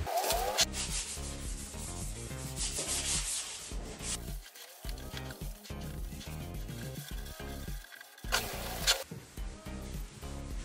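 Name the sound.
sanding paint on speaker enclosure with sandpaper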